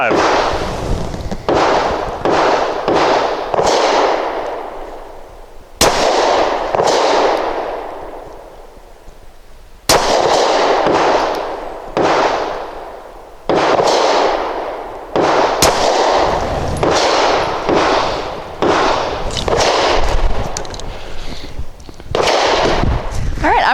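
Sharp gunshots from a DB9 Gen 4 pistol firing SIG short-barrel-optimized 115 grain jacketed ammunition at a range, a dozen or more loud reports in irregular strings, each ringing briefly; voices talk between strings.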